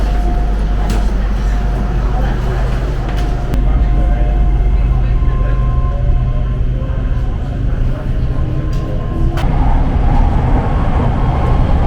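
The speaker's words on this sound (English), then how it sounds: "On the Red Line train." Interior of a moving Red Line train in Bangkok: a constant loud low rumble with rail clatter and a few sharp clunks, and a voice heard faintly beneath the noise.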